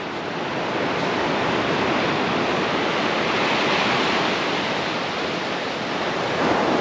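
Sea surf pounds Beesands Beach in stormy monsoon weather, a dense, steady roar of breaking waves and wind close by, loud and unbroken throughout with no voices.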